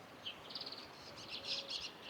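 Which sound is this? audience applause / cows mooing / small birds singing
small birds singing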